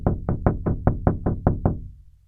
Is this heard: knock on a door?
yes